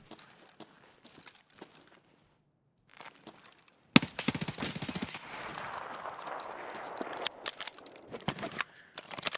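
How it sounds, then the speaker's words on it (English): Gunfire in the video game Escape from Tarkov: scattered quiet clicks and taps at first, then a sudden loud shot launches dense, rapid bursts of automatic fire that continue with short gaps. "That guy was shooting at me with something special."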